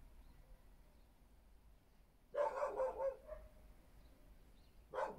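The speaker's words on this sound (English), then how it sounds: "I think the neighbour's dog's out." A neighbour's dog barks outside near a harbour-side studio in St Ives, Cornwall, in a short burst of several barks followed by a single later bark, fairly distant over quiet room tone.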